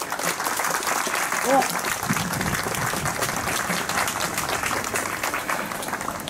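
Warm applause from a gathered crowd at a Japanese ceremony for a newly built festival float, honoring four craftsmen; continuous clapping carries throughout with a few voices audible beneath it.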